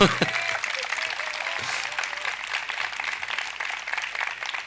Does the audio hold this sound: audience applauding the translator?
yes